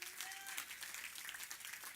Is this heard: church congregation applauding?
yes